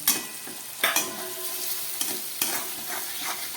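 Chopped tomato and onion sizzle steadily in a pan while a utensil scrapes and stirs in several sharp, irregular strokes close to the microphone.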